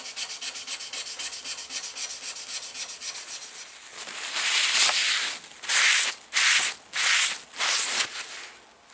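A knife blade is hand sanded with 400 grit abrasive, first in fast even rhythmic strokes, then slower, louder scraping passes in distinct bursts, close and alone.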